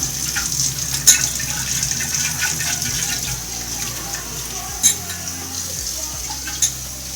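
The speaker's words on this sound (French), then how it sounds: "J'ouvre de l'eau" Kitchen tap running steadily into a kombucha bowl being washed with baking soda, a continuous close hiss of water with occasional clinks and splashes.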